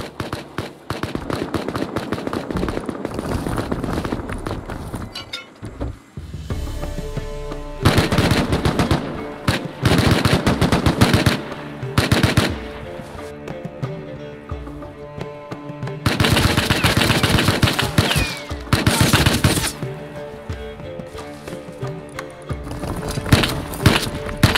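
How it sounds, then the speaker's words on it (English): Gunfire from a battle outside a player base in the survival game Rust, with dense bursts of automatic fire and single shots coming in waves and brief lulls, loud and sustained throughout. "battle erupted outside of my base between Pooh Bear and Gibbs's crew, my allies."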